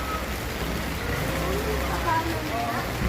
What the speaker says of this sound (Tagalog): malakas pa rin yung ulan